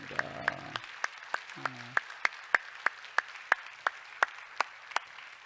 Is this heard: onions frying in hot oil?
no